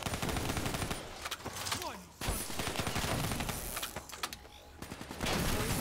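Gunfire in the video game Call of Duty Black Ops 3, dense rapid bursts of automatic shots and explosions crowding the scene, loud and nearly continuous, with a voice talking over the battle.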